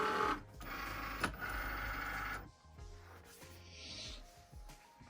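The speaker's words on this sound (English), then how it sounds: "Turn on your Cricut. Go ahead and load it." A Cricut cutting machine pulls in a sheet of cardstock with whirring motor runs and short mechanical clicks and thumps. The sound is fairly quiet and close, with uneven pauses between the feeding movements.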